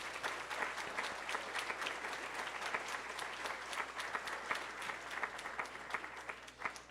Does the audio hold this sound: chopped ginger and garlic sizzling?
no